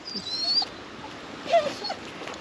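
A reactive dog whines during a training lesson, giving two brief high whimpers, one early and one about a second later, set against quiet room noise with no barking.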